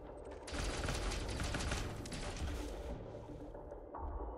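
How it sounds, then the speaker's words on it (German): Sustained rapid gunfire from a ship or weapon in Elite Dangerous: Odyssey, a dense continuous burst lasting several seconds at steady loudness, easing slightly near the end, with no talk over it. "Alle 2000 Schuss hier einfach verschossen."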